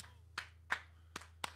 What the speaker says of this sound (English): it's time for you to do some rhythmic clapping